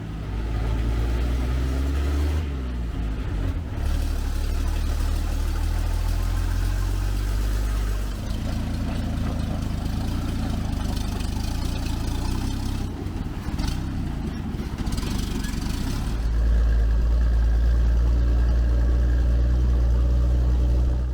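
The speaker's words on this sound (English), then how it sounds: "Once it is filled with sand, the truck proceeds towards the next location to unload it." Low rumbling diesel engine of a dump truck loaded with sand, droning steadily and revving up as it pulls away, close and loud with a heavy bass throb.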